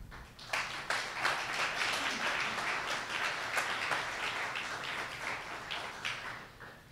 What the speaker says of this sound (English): Let's have another round of applause for Josh Marinacci